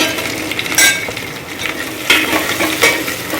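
Curry leaves, red chili and garam masala sizzling and frying in hot oil for a Gujarati dal dhokli, with steady crackle and a few louder bursts as the pan is stirred.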